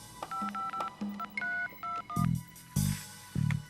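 Telephone keypad tones from a video game as a voicemail access code is dialed: a quick series of distinct DTMF beeps in irregular rhythm, followed by a few louder, rougher thumps or clicks near the end, with no voices.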